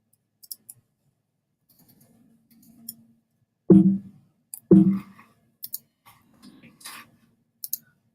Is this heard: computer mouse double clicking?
yes